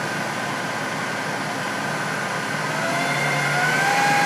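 A Jet-16 milling machine spindle runs flat out at about 1,500 RPM, belt-driven through an idler pulley. It gives a steady, smooth motor hum with a faint rising whine near the end, and no one speaks.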